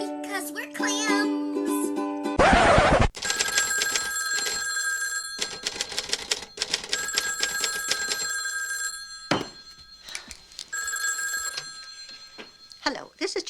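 A telephone rings repeatedly, its bright electronic trills sounding in bursts with short gaps between them, loud and close; a brief harsh noise burst comes early on and no one speaks.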